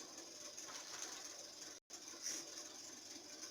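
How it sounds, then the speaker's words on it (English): A sewing machine stitching a long pencil skirt hums faint and steady, with a brief dropout near the middle before it carries on. "Then this one, I'll sew it down where I marked earlier."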